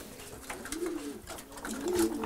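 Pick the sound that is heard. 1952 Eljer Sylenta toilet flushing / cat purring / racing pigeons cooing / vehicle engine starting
racing pigeons cooing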